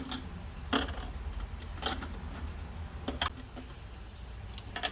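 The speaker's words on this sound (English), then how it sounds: "So what I'm doing right now is I'm just sorting through all the bolts and washers" Loose metal bolts and washers from a double wheel hoe kit are picked through by hand, giving faint, scattered clinks and jingles, a few sharper taps among quiet handling, close by with no talk.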